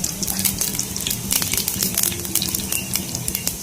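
Hot oil sizzles in a pan as masala is fried for a curry, a dense crackling hiss with bursts of sharper spitting and some stirring, close by with no voices.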